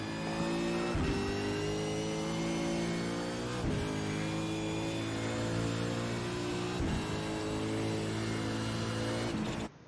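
A V8 Supercar in a racing sim game laps Brands Hatch, its engine revving hard through the gears in repeated climbing pulls with sharp drops at each upshift, loud and close with no talk.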